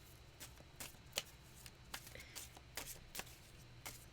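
Tarot cards are shuffled close by in quick, papery riffles and soft slaps, a run of short bursts at an uneven rhythm before a card is pulled.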